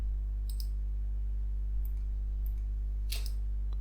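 Mouse clicks while working in Creo Parametric CAD software: a few sharp, isolated clicks spaced irregularly across a few seconds, faint over a steady low electrical hum.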